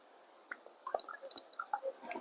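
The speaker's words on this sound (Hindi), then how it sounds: "पहले पानी पी लेते हैं।" Water being drunk by a person close up: a quiet sequence of wet sips, gulps and small mouth squelches with irregular rhythm, heard alone without talk.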